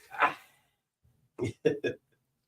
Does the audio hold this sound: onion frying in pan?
no